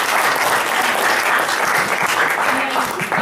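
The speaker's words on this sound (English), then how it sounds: "So let's give a round of applause for Dr. Miller." An audience claps in sustained, dense applause at a university skeptics society talk, a steady even roar of many hands throughout with faint voices mixed in.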